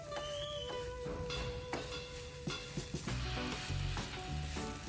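Tuvar bean kernels frying in a pan over a low flame for kachori filling, a steady close sizzle broken by repeated scraping stirs of a spoon against the pan.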